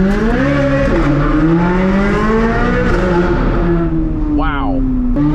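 A Corvette C8 Z06 fitted with a very loud aftermarket exhaust accelerates hard, its engine note climbing steadily and filling the clip up close and loud without a break.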